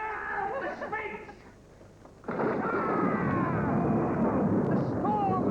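A sudden loud crack of thunder bursts in and rolls on as a sustained rumble, following a moment of dramatic voices and music.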